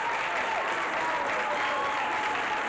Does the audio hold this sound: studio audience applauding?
yes